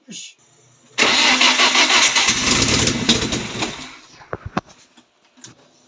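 A BMW 316 fitted with a turbo cranks and catches, runs roughly for about three seconds and then cuts out, followed by a few sharp knocks. Voices talk nearby.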